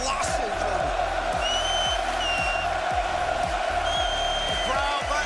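A Rocket League world championship arena crowd applauds and cheers steadily throughout under loud commentary, with the rhythmic thump of the game's ball sounds underneath.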